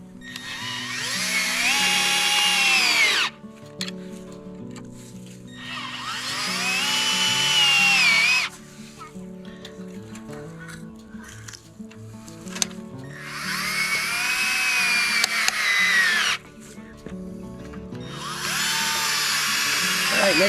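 A power drill drives screws through metal gussets into a wooden chicken tractor frame in three loud bursts of whirring, with quieter pauses between them.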